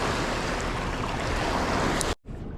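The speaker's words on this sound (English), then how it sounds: "Oh dude, these waves." Ocean surf washes in a continuous, loud broadband rush close to the microphone at a fishing spot, breaking off abruptly near the end before resuming.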